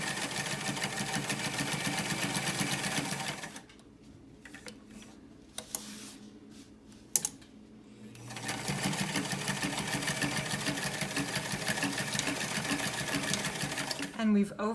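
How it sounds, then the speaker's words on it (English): A sewing machine overstitches a seam on a waterproofer, running with a loud, steady rapid mechanical whir that pauses for a few seconds midway amid light handling clicks, then resumes at full speed. "we've overstitched with our initial line of stitching to secure everything"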